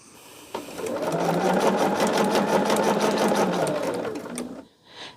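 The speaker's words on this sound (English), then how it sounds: "get the two side rows, these two and these two, sewn together" A sewing machine stitching quilt rows together, a fast steady mechanical whir running close and loud for about four seconds before stopping.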